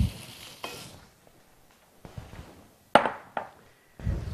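Quartered mushrooms are stirred into onions frying in a pan, giving several separate bursts of scraping and sizzling close by, each fading quickly into near silence.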